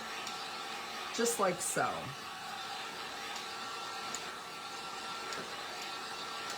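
A hair dryer blows steadily to dry a wooden snow globe craft outdoors, a constant airy whir running throughout while someone speaks briefly over it.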